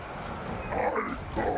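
Zombie dogs growl in battle in the strategy game Total War: Warhammer 3, low rough snarls rising and falling over a continuous din of combat.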